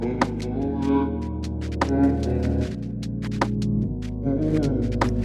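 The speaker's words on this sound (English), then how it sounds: "Percussion loop." A looping electronic beat with sharp, regular percussive hits over a sustained low bass-heavy tone, steady and loud with no voices.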